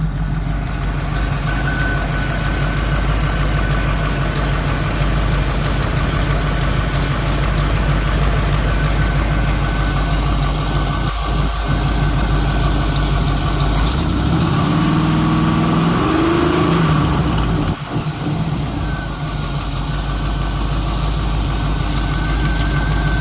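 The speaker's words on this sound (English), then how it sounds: "Got a click there, gotta snug down the header bolts." A 1976 Jeep CJ-7 engine idles loudly and steadily, freshly reassembled with loose header bolts; a rough, even rumble holds throughout, with a brief dip in the drone near the end.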